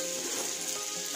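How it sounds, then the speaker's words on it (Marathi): Pieces of mushi fish fry in hot oil in a pan, giving a steady, close sizzle with a fine, crackling spatter that holds without a break. "आता आपण तशीच बाकीची मच्छी फ्राय करून घेऊ"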